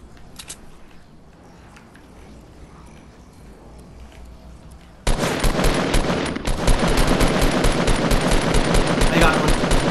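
Fortnite gunfire starts faint with scattered distant shots, then jumps into loud, rapid automatic bursts for the second half, with a voice talking faintly underneath.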